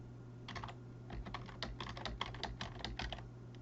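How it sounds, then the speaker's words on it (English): Fast clattering keystrokes on a computer keyboard entering numbers, close and fairly quiet, in short irregular clusters over a low hum with no voices. "I'm just going to type some numbers in here"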